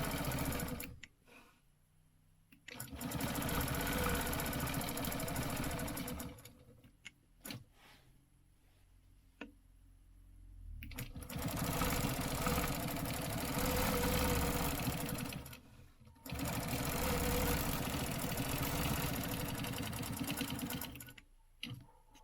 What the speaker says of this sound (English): I'm going to stitch this one.